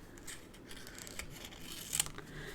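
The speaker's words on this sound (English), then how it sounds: "I'm going to slide my scissors and just trim off those ends" Scissors snip along the edge of a piece of card, trimming off its ends in a few quiet, close cuts with light paper rustling between them.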